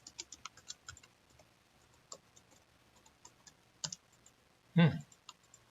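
Light, scattered clicks on a computer keyboard as a password is typed, faint and irregular near the mic, followed by a brief louder thump.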